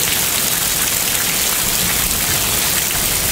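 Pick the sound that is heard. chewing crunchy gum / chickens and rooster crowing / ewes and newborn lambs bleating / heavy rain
heavy rain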